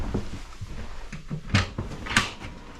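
A drawer being opened or closed in boat deck storage, two short knocking slides standing out among quieter rustles and clunks.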